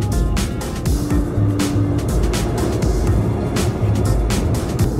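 Night taxi ride through Seoul toward Gangnam: steady in-car road rumble and engine hum with periodic bumps and clicks, a continuous moderate drone with no talk.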